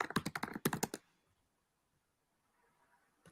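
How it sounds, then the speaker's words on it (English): Computer keyboard typed on aggressively, a fast loud burst of key strikes lasting about a second, close up, then near silence. "Some aggressive typing."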